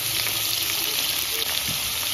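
Potatoes and vegetable stems fry in a pan with salt and turmeric, giving a loud, constant close-up sizzle that runs unbroken and without voices.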